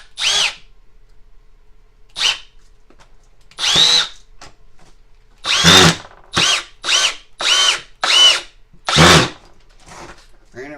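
A Milwaukee M12 FUEL hammer drill/driver in drive mode on speed 2 sinks a 3-inch screw at a steep angle in a string of loud, close whirring bursts, the first few spaced apart and the later ones quick and rapid.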